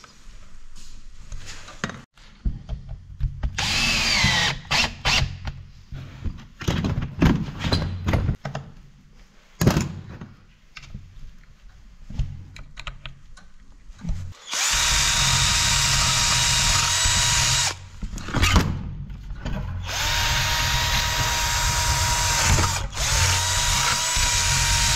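A power drill drives bolts on a Husqvarna 236 chainsaw under repair, in short whirring bursts with clunks and ratcheting, then long sustained loud runs near the listener.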